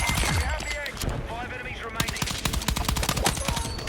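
Rapid automatic gunfire in Battlefield 6 on PC rattles out in fast, dense bursts, loud and continuous, mixed with other in-game effects and a voice.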